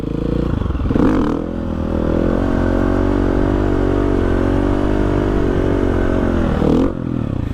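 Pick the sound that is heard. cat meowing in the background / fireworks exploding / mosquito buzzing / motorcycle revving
motorcycle revving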